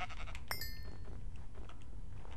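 Sheep bleating in a blocky sandbox survival game, a short bright bleat standing out over a steady bed of game ambience and low background noise.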